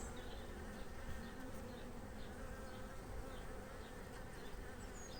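Honey bees swarm around an opened hive in April as frames of honey and pollen are lifted out, a dense, steady buzzing of many insects close by with no voices.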